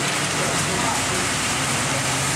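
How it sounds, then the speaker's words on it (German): Early rain from an approaching Hurricane Irma in Florida falls as a steady, loud broadband hiss, a continuous wash of drops with low rumbling wind underneath and no clear breaks. "Der erste Regen kommt."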